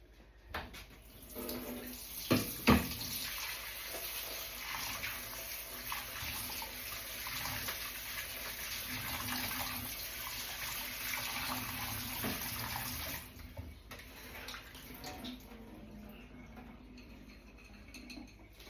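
Tap water runs steadily into a sink while strawberries are rinsed under it, with a few sharp knocks and clicks near the start. The flow gushes loudly and evenly for about thirteen seconds, then cuts off, leaving quieter room sounds.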